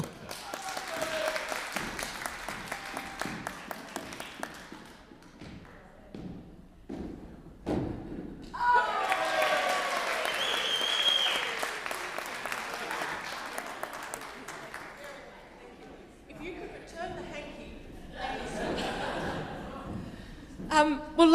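At an oration event, Morris dancers perform with rhythmic thumps of feet and sticks, mixed with clapping, laughter and voices from the audience, in bursts across a long stretch.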